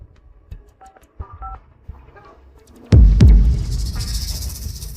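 A telephone keypad dialing a number, a short run of separate beeping key tones at close range, followed by a sudden loud burst of noise.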